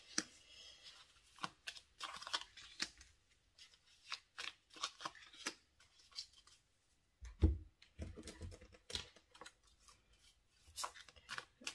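A deck of tarot cards being shuffled, giving quick papery riffles and flicks in repeated short bursts, close and fairly quiet, with a louder knock of the cards near the middle.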